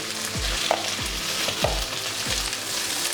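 Cabbage chutney ingredients fry with turmeric in a pan, a loud continuous sizzle punctuated by four rhythmic scraping strokes of a spoon stirring.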